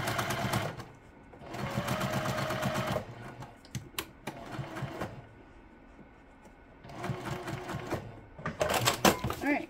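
A sewing machine runs a quick basting stitch along a seam edge, humming and clattering in bursts of a second or two, close up, with pauses between runs.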